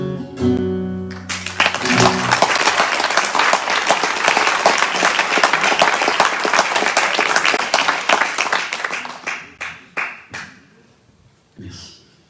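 Loud crowd applause after a song at a centenary recital, dense clapping starting as the final guitar notes ring out, then thinning into scattered claps and dying away.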